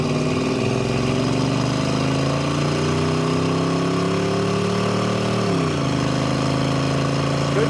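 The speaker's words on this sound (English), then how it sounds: "has a good muscle car or muscle truck sound" A 1972 Chevrolet El Camino SS's 350 V8 with automatic transmission and aftermarket Flowmaster-style mufflers rumbles steadily as it drives, its deep throaty tone rising slightly then dipping as it shifts, loud and close.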